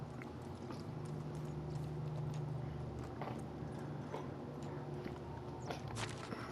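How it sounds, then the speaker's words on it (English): Rhythmic hoofbeats of a horse clip-clopping along in a village-building video game, faint and steady with soft footfall taps over a low ambient hum. "Oh yeah, I got a horse now."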